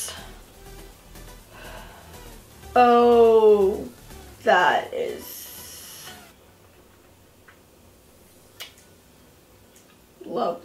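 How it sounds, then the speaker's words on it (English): Aerosol setting spray misted onto a made-up face gives a short, close, airy hiss lasting about a second, with someone talking just before it and a gasp-like exclamation around it. "I'm gonna spray and we'll see the results."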